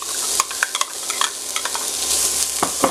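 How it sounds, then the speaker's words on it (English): Garlic and onion fry in olive oil in a pan, a steady close sizzle with scattered crackles and a few sharp pops and scrapes, growing slightly louder toward the end. "add the garlic. Fry it a little bit, and after that add the onion."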